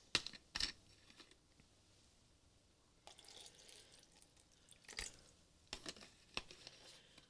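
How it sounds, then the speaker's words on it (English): Water is poured into a well-used but fairly clean container at an acrylic mixed-media art table: quiet, intermittent splashes and drips in short bursts, with nobody speaking. "I'm going to put some water in it."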